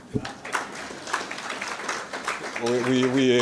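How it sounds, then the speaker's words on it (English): Scattered audience applause at an economic panel event, clapping that swells unevenly with audible voices mixed in, then a person begins talking over it near the end. "please may you give him a round of applause"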